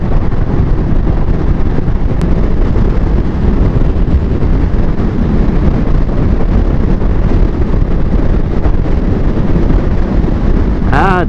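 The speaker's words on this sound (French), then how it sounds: "Il y a du vent, hein." Heavy wind buffets the microphone during a drive through California, a constant loud rumbling roar that lasts the whole stretch with no letup.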